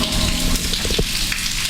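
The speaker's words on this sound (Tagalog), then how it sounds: "Parang ano to ah, ulan na to ah." Water dripping and splattering like rain inside a dark tunnel, a dense patter of drops with a few louder splashes, close and echoing, no talking.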